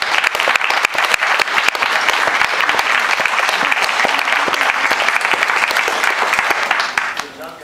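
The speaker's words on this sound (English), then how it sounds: "One more round of applause for your kids." Audience applause after a school concert performed by kids, dense steady clapping from a crowd that fills the room and holds for several seconds before tapering off at the end.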